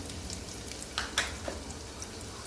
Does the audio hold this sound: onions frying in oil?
yes